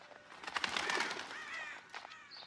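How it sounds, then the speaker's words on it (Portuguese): A bird takes flight in the horror video game Until Dawn, with chirps, light fluttering and a coo-like call from close by, reaching a soft peak over about two seconds before fading. "saiu o passarinho voando daquela direção"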